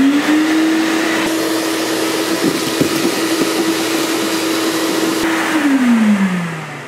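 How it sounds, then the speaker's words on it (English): A vacuum cleaner whines steadily and loudly while sucking up salt crust from the floor near a leaking saltwater aquarium, with small rattles of debris, then its pitch drops as it winds down at the end. "I think I got all the salt crust vacuumed up"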